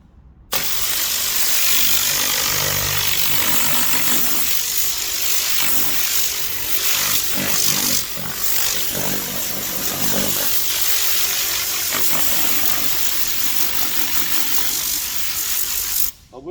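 An air blower blasts rubbish and debris out of the dirty carpets of a Ford Focus ST500 during a restoration detail, a loud continuous hissing rush of air running nearly the whole time with slight surges.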